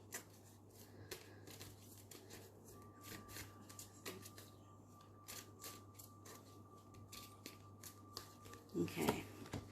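Tarot cards shuffled by hand, a quick run of crisp papery riffles and taps repeating steadily over a low, constant background hum, with a denser flurry of card noise near the end.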